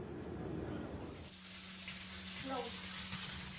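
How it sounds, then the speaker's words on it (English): Floodwater flows through a flooded house in Queens after heavy rain overwhelmed the sewers, a steady rushing, tap-like stream of water that is continuous and moderately close, with faint background sounds. "The water you see flowing through the Dye family's home is the result of flooding"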